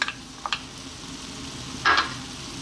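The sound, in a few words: sliced onion frying in a pan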